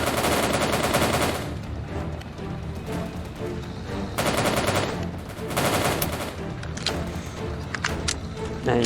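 Dense bursts of rapid machine-gun and rifle fire in the Soviet Soldier video game, loud and near, coming in long volleys with short lulls between them, a voice talking over parts of it.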